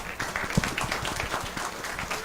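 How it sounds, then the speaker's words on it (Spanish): Audience applause at an event welcoming a speaker, a steady patter of many hands clapping at moderate volume, continuous throughout. "Y antes de darle el pase al doctor Augusto, vamos a darles un aplauso a los que están acompañándonos por Internet."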